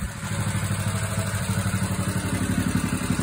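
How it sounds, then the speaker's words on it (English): An engine idles steadily nearby with an even, pulsing chug and a light mechanical clatter, left running to cool down after powering a generator, with no voices. "Let that thing idle and cool off a bit. Be better on the engine than the generator."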